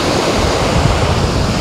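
Sea surf on an empty beach at Dzhemete near Anapa, a loud, constant roar of waves mixed with wind buffeting the microphone, dense and unbroken throughout.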